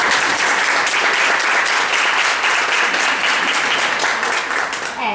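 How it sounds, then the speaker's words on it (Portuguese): A group of mothers of young people with special needs gives a round of applause at their meeting. Many hands clap loudly and continuously for several seconds, filling the room with a full, even roar that eases slightly at the end. "salva de palmas."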